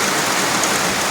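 Heavy downpour from Cyclone Montha on a Kolkata street, a dense, steady roar of rain hitting surfaces, loud and unbroken with no voices.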